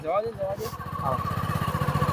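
A motorcycle engine idles with a steady low rhythmic putter, close by, while people talk over it throughout.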